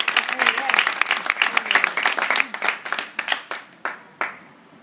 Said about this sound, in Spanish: Aplausos para Diego